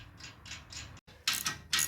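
Ratcheting wrench tightening a bolt and nut while assembling a 12 ton Harbor Freight shop press at home, a series of close, rhythmic ratchet clicks in short bursts with a brief pause midway.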